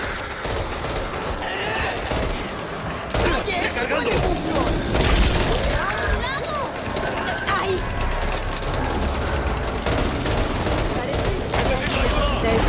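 Gunfire in a chaotic shooter game, with bursts of shots and loud effects running continuously under excited talk from several players.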